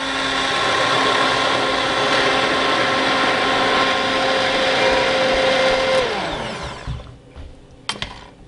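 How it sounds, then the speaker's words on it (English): An immersion blender whirs steadily and loudly while pureeing tomato soup, its motor holding a constant drone for about six seconds, then winding down, followed by a few soft knocks and a brief clatter. "we are going to use the immersion blender to puree this."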